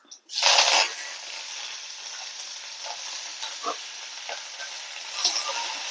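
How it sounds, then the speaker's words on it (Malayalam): Whole dried red chillies and curry leaves hitting hot oil with popped mustard seeds, bursting into a loud sudden sizzle that settles into a steady close hiss with occasional spits and pops, no talking. "എന്നിട്ടൊന്ന് വറുത്ത് കൊടുക്കുക"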